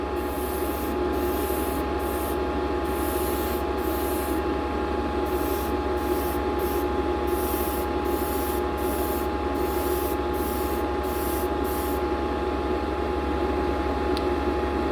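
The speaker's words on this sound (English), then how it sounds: "with that nice control with the airbrush, you could really get into the small places" Airbrush spraying light coats of paint over taped areas, a steady continuous hiss with a low compressor hum underneath, interrupted by brief gaps as the trigger is released, close and alone without talk.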